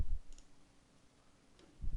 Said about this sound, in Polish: zaznaczamy niepotrzebne ankiety i klikamy przycisk usuń